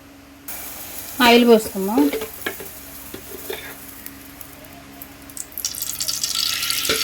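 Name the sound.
pouring oil into a cooking pan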